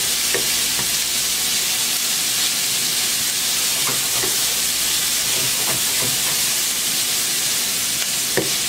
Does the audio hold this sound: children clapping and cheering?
no